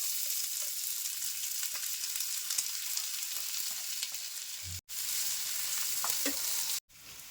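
Onions fry in the same pan used for paneer masala, a soft, even sizzle with light stirring that runs steadily and is cut off briefly twice near the end, with no voices.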